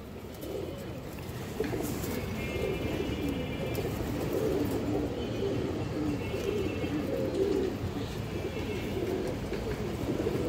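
Pigeons coo continuously in a low, rolling murmur, close and steady throughout, with faint higher chirps above.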